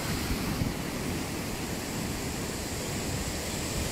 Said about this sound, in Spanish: Está muy fuerte la marea.